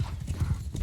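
Horses galloping across a nighttime battlefield in the video game Mount & Blade II: Bannerlord, a dense, rapid clatter of many hooves rolling on steadily and close.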